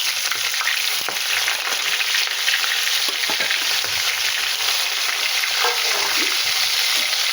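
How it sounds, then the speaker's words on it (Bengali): Koi fish frying in oil in a wok, a loud, continuous close sizzle with faint stirring knocks underneath, no voices. "কড়াই তেল দিয়েছি তেল দেওয়ার পরে এই আমি এগুলো ভেজে নেবো কই মাছগুলো সব ভেজে নেবো"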